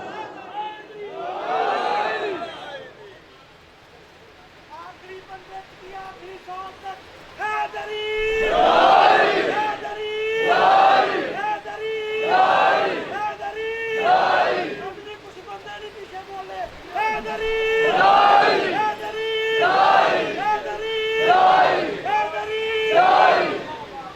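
A large crowd at a Muharram gathering in an imambargah in Gojra shouts religious slogans in loud, repeated bursts, call-and-response style with pauses between, voices near and massed.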